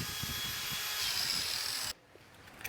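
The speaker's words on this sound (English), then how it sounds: "gonna do a slight chamfer to the corner of these, just with the grinder" An angle grinder chamfers the corners of steel pieces for a mini toy hauler trailer build, a steady loud high whine that cuts off abruptly near the end, followed by light clatter.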